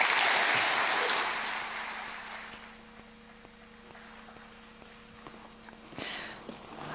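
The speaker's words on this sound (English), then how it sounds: "A big round of applause for Jean-Guy Africa" Applause at the Africa CEO Forum opening ceremony fades from a moderate, dense clapping to a faint patter over a low hall hum.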